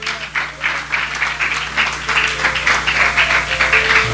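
A church congregation applauds together, a steady, dense patter of clapping hands that builds slightly and holds through to the end, with no voices over it.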